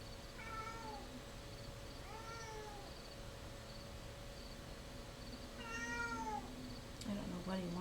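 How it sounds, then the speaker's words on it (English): A pet cat meows several times, with short rising-falling calls spaced a few seconds apart. They sound fairly close over a steady low indoor hum, and a final clatter ends the stretch. "You guys hear my cat? He's saying hi."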